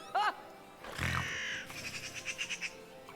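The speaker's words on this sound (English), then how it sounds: "Bird noises. Bird noises." Cartoonish bird calls from an animated show: a sharp squawk, a harsh cawing burst, then a rapid string of chirping pulses, fairly loud and close.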